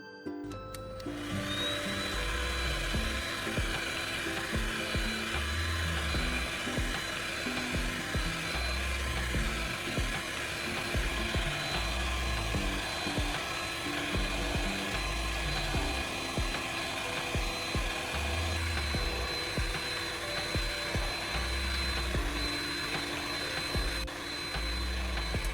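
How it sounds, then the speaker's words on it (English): Heat gun blowing hot air to soften PVC pipe, a continuous loud whooshing fan hiss with an underlying motor whine, steady from start to finish without speech. "I'll use a heat gun to soften the PVC pipe."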